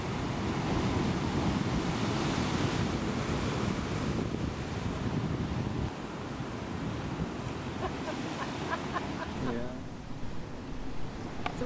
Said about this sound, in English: We just watched the dolphins playing in the waves out here.